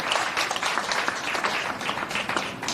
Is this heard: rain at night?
no